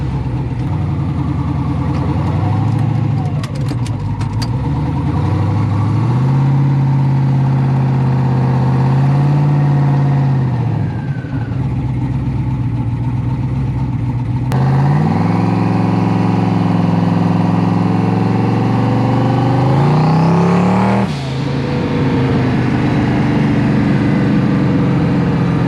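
A Chevrolet Nova fitted with a Gen V LT engine runs steadily and loud throughout, its deep mid-pitched drone rising and falling as it is driven, with two clear revving swells and shifts breaking the pattern, no talk over it.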